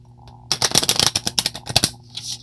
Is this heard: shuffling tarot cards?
yes